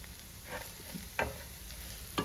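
Shallots sautéing in a pan with salt, a soft continuous sizzle with a few distinct scraping stirs of the spoon at intervals, quiet and close, no voices.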